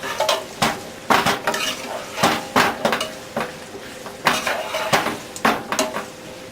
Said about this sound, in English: we're going to start turning it so that we can get a nice coating on the zucchini